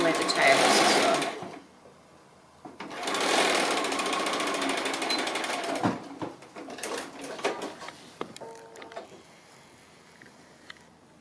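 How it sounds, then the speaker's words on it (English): A sewing machine stitches a fabric chook pin cushion near the tail in two loud, fast bursts, then quieter intermittent stitching and mechanical clicks, with a voice in the background. "I'm just going to come down here and stitch in where the tail is as well."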